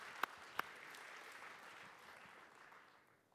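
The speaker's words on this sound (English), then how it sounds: "I guess you deserve a round of applause" A conference audience applauds steadily, the clapping fading gradually toward the end, with two sharp clicks near the start.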